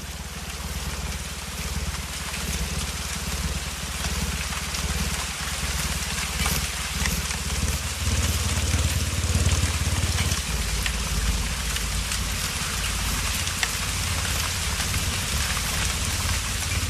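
Steady, dense rainfall in the Atlantic Forest, a continuous close patter of drops on leaves and surfaces with no voices, unbroken for the whole stretch.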